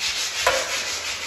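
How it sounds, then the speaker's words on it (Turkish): Sandpaper is rubbed against a shop wall to level a patched spot with the surrounding surface, making a steady, loud, close scraping hiss with one brief sharper stroke partway through. "Bunu böyle zımparalayıp duvarla aynı ölçüye getirmemiz lazım."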